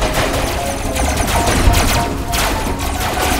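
Dense, loud gunfire rattles continuously in the Robocraft robot combat game, a sustained barrage of overlapping shots and crashing impacts with no pauses, close and heavy throughout.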